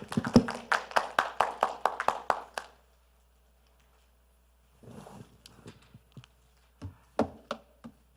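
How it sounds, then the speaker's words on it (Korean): Brief burst of audience clapping at a Korean future-generation pavilion forum session on the metaverse, welcoming the second session's presenter; a dozen or so sharp claps fade after a few seconds, followed by silence and then scattered handling sounds and a few taps. "우리 따뜻한 박수로 권순일 본부장님."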